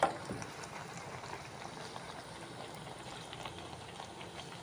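Chicken liver fries slowly in hot oil, a quiet, steady bubbling sizzle with small crackles and no talking.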